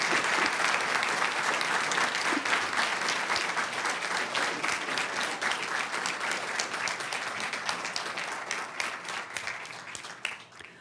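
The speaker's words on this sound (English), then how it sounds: "let's give all of the honorees a great big round of applause" An audience at a board of education reception applauds district police honorees, a sustained, even roar of many hands clapping that fades gently toward the end.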